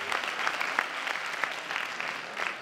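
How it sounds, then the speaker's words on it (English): Audience applause for a cybersecurity speaker at an Algosystems event, a steady wash of clapping hands with a few sharper claps standing out, moderately distant and sustained throughout. "Another applause for Mr. Makrygeorgou."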